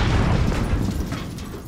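Grenade explosion in Call of Duty Modern Warfare, a heavy low booming blast with a rumbling tail that slowly fades over about two seconds, loud and close, with no talk.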